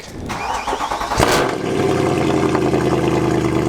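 A high-mileage V8 car engine fires up with a sharp burst, then settles into a loud, throaty rumble close by, with no talking.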